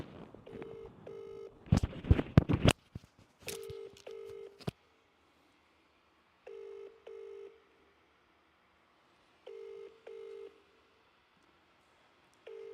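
A telephone ringback tone sounds in repeated double bursts through a line, with a brief loud clatter of noise early on and quiet gaps between rings.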